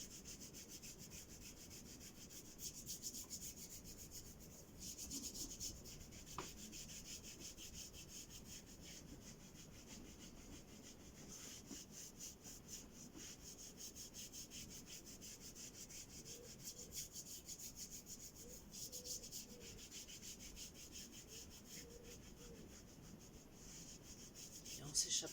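Palms rub over the body during a qi gong self-massage, giving a soft, steady friction hiss that runs continuously at low volume with a few slightly stronger passes, and no talking.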